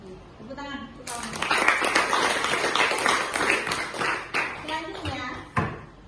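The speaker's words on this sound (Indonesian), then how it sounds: "Tepuk tangan." Applause from a classroom audience starts after a brief pause and runs for several seconds as a dense, steady clatter of many hands, with voices mixed in underneath.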